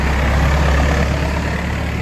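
A tractor rumbles past on a rural road along the Camino de Santiago near Villafranca del Bierzo, its steady, loud low engine drone filling the whole moment.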